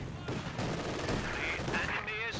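Rapid gunfire crackles in a Company of Heroes 2 battle as conscripts come under fire, with dense bursts of shots and other battlefield noise under continuous clutter.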